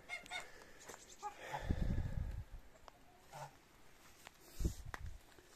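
Hens in a henhouse make honking, clucking calls against a busy, noisy background, with one stretch of louder low rumbling partway through and scattered calls before and after.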